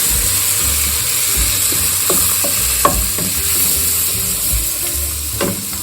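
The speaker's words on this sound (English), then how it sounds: "So just saute for 5 minutes, and then add the flour" Chicken sautéing with flour in a hot pan for a chicken fricassee, a steady close sizzle and frying hiss broken by occasional soft stirring scrapes and taps.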